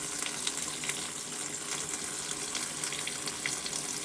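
Water pools and flows steadily on a tarp at a lakeside island cabin build site in freezing weather, a continuous close trickling and splashing with small drips scattered throughout.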